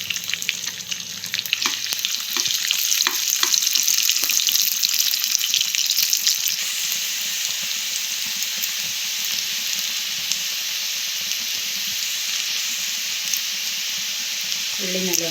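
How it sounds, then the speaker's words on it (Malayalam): Sliced onions drop into hot coconut oil and fry with a loud, dense sizzle that swells at first, then settles into a steady, even crackle close up. "നമുക്കതിലേക്ക് ഉള്ളി ഇട്ട് കൊടുക്കാം."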